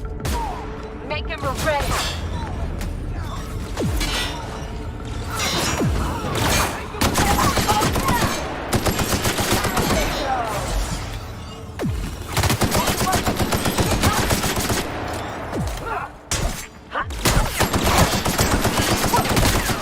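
Heavy gunfire in The Outer Worlds, dense rapid bursts and automatic fire rattling almost continuously, loud and close, with a few short spoken lines underneath.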